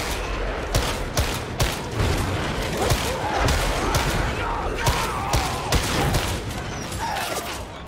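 Gunfire crackles through a video game firefight in rapid bursts and overlapping shots, dense and fairly loud, with a voice talking over parts of the exchange.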